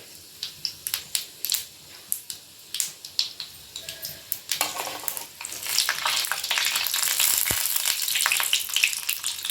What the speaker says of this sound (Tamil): எண்ணெய் காய்ஞ்சிருச்சு இப்போது அதில் கடுகு உளுத்தம்பருப்பு ஆட் பண்ணுறேன் நன்றாக பொரிந்ததும்